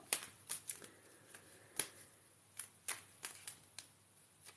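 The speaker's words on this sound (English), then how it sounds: "let's shuffle my Old Faithful cards" A deck of tarot cards is shuffled by hand in a quiet room, giving faint, irregular crisp snaps and riffles spaced through the stretch, with no voice.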